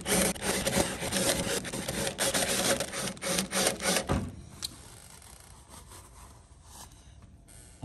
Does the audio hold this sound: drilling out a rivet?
yes